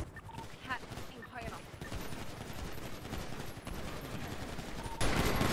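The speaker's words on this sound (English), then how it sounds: "Open fire on the Swift now." Sustained automatic gunfire aimed at a helicopter in a video game, rattling steadily beneath excited talking, with a louder burst closing it out.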